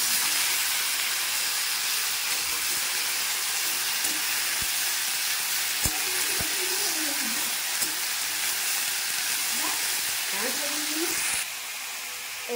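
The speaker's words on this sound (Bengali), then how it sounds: "ফোড়নে তারপর দেখো আলু ডাঁটা একসাথে ছেড়ে দিয়েছি" Potatoes and vegetable stems frying in hot oil with panch phoron in a home kitchen, giving a steady, loud hissing sizzle that runs throughout, broken by a few clinks and brief bits of talk.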